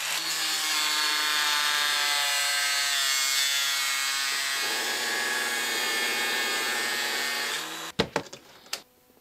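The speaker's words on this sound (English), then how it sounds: "I'm afraid I'll pop off a chunk using the Dremel tool" A Dremel rotary tool carves a wooden swimbait lure, a loud, steady high-pitched whine with shifting grinding tones, close up, stopping abruptly near the end and followed by a few handling clicks.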